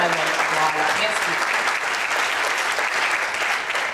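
A concert audience applauds steadily, dense sustained clapping from a crowd with a voice speaking briefly at the start.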